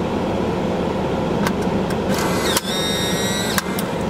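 A Polaroid instant camera fires a selfie with a sharp shutter click, then its motor whirs as the print is ejected, a close mechanical buzz over steady background noise, framed by a few small clicks.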